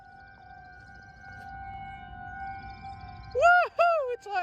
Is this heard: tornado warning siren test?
yes